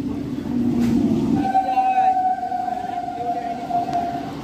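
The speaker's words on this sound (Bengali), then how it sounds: "নৈহাটি লোকাল।" A Naihati local train at Palta station, a loud rumbling approach followed by a long sustained horn-like whistle tone, with a voice speaking over the start.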